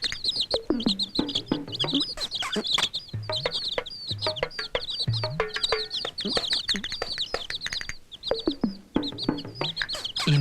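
Chickens cluck and chirp continuously, a busy flock of overlapping calls close by, with bursts of higher peeping throughout.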